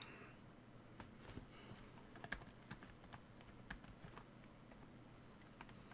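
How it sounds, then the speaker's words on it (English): Fingers type on a laptop keyboard in a quiet room, a steady patter of soft close key clicks with a few slightly harder taps. "Make sure I got that typed correctly the first time."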